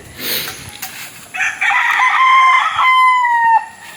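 Backyard rooster crowing once, loud and near, a drawn-out harmonic call with a falling tail, preceded by brief clucking from backyard chickens; no talk.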